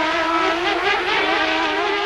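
Mario Andretti's white race car chasing Teo Fabi, its engine a loud, close, steady high-pitched roar that wavers slightly in pitch with no gaps.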